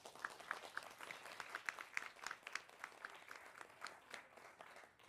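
An audience applauds to welcome speaker Yesenia Portillo at a talk: moderate, scattered clapping from a modest crowd, steady at first and then gradually thinning, heard from a distance.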